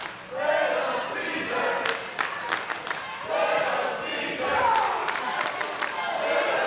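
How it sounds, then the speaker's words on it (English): A wrestling crowd at a live match chants in unison at Papadon, the rhythmic shouted chant repeating in waves with thuds and slams from the ring underneath. "Crowd looking to get into the head of Papadon, chanting for his least favorite food, carbs."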